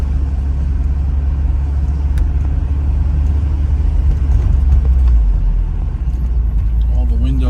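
A 1986 Porsche 944 on the move, its engine a steady low rumble with road noise beneath it, loud and continuous through the cabin, with a voice talking over it near the end.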